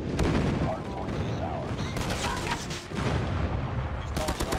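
In a ranked Call of Duty Mobile match, dense bursts of gunfire crackle and boom over each other in rapid volleys, loud and continuous, with a player's voice faintly mixed in.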